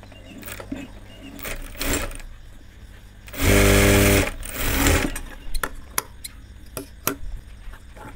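A sewing machine stitches a child's panjabi in one short, loud, close burst of about two seconds, surrounded by fabric handling and small clicks.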